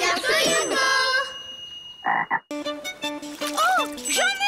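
Cartoon frog croaks in a children's drawing show about water, rhythmic tonal croaks repeating loudly over a musical, voiced background with a short splashy burst in the middle.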